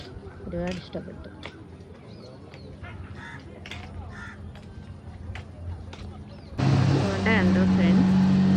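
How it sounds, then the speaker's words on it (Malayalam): Crows caw and people talk on the Alappuzha backwaters before a speedboat's engine suddenly roars up close and loud, holding a steady droning tone through the final seconds. "കണ്ടോ ഫ്രണ്ട്സ്, സ്പീഡ് ബോട്ട് പോകുന്നുണ്ടോ?"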